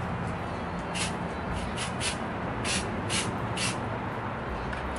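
An aerosol spray can hisses in several short bursts as it mists a nightgown for a dirtied Westworld-style Halloween costume, each burst clear and fairly close over steady background noise.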